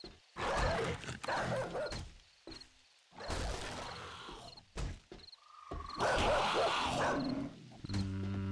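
A dog in the zombie survival game 7 Days to Die barks several times in loud, harsh bursts with short gaps, mixed with other game noises and no talk.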